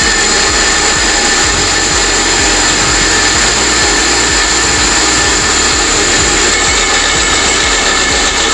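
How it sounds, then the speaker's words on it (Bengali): A kitchen blender blending cooked, cooled tomatoes into sauce, a loud steady whirring motor drone with rhythmic low churning pulses that runs the whole time, close and without any talk. "এখন আমি টমেটোগুলোকে ব্লেন্ড করে নেব।"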